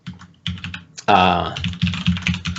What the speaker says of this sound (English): Sorry for my extremely loud keyboard.